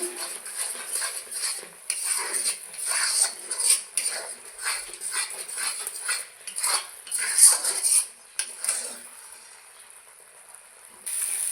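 A spoon stirring chicken curry masala with Kashmiri chilli powder in a pan makes intermittent close scraping and clinking strokes against the metal, with brief pauses between them and a faint hiss underneath.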